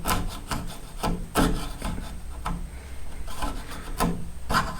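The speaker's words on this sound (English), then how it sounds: "I'm going to use a multi-tool or a painter's tool just to come through and scrape this stuff" Hand scraping of old paint from a steel-clad exterior workshop door with a multi-tool or painter's tool, heard as a run of close, rough rasping strokes in an uneven rhythm with no talking.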